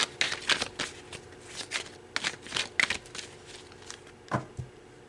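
Tarot cards being shuffled up close, a series of crisp riffling and flicking bursts in quick irregular succession, with no talking.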